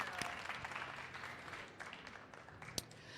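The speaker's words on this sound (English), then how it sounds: "Please, another round of applause." Quiet applause from a conference audience at the Power Stage: soft, distant clapping that gradually thins out, with a few sharper claps near the end.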